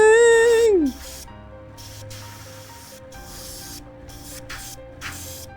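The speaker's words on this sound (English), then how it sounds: "I want to finish priming these 3 models." Aerosol spray primer hissing onto miniature models during a quick priming session, a short loud burst that cuts off after about a second, leaving quiet room noise with faint background sounds.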